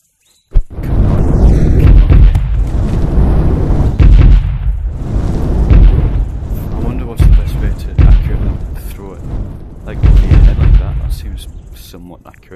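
A fire-bending spell in the video game Ascending unleashes loud, roaring, explosive blasts that rumble on almost continuously in several heavy surges, with brief lulls between bursts.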